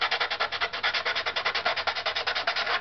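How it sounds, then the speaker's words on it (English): Rapid rhythmic strokes of sandpaper rubbing on wood, a fast even back-and-forth scratching close up with nothing else heard. "Again, I'm going to use sandpaper."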